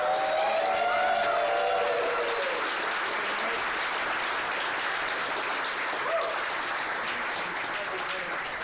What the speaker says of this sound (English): Round of applause for everybody sticking around and making it out.